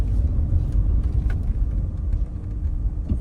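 An Aston Martin V8 Vantage engine rumbles low and steady from inside the cabin, a continuous deep drone with road noise and no clear break for a gear shift.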